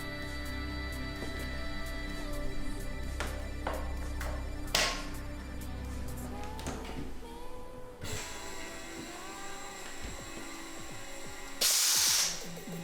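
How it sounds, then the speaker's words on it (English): A keg being purged of oxygen with gas before racking, with a steady background hiss, some ringing tones and a brief loud burst of hissing near the end, no voices. "And now we're just going to give this keg a quick purge of oxygen"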